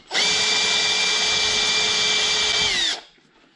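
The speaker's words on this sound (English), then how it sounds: "Now I've come down to a 3mm drill, and I'm just going to up the speed a little bit" A 3mm drill bit spins at speed against the quarter light vent of a Rover P4, giving one loud, steady high-pitched whine that holds for about three seconds before cutting off abruptly.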